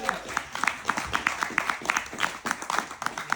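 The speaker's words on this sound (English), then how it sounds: "Give them a round of applause." Applause rises from an audience at a film screening Q&A, honoring the crew. The clapping is fairly faint and dense, with quick uneven bursts and a few claps standing out.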